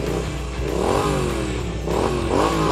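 A motorcycle engine revs up in two rising surges, close by and fairly loud, with gear-like pitch sweeps climbing each time.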